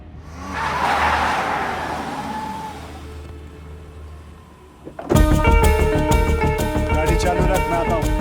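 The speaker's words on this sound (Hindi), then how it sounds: "गाड़ी चालू रख, मैं आता हूँ।" A car engine rumbles and revs with tyres briefly skidding, followed by a short pause and then an abrupt burst of loud, dense music over the engine.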